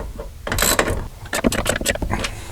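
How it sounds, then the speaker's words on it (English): A 3/8 drive ratchet with a 13mm deep socket tightens a bolt on a crew door of a CF Moto U-Force 1000XL, giving close, quick bursts of clicking strokes with brief pauses. "we'll go ahead and tighten this down with our 3/8 drive ratchet and our 13mm deep barrel socket"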